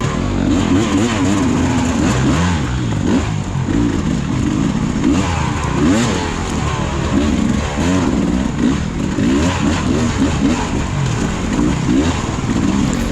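A dirt bike engine revs repeatedly on a difficult trail during a pivot turn, loud and close throughout, its pitch rising and falling in bursts over a steady mechanical clatter, with no talk.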